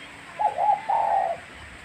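A zebra dove coos close by, a short rolling phrase of soft, purring notes followed by a longer trilled coo against a quiet background.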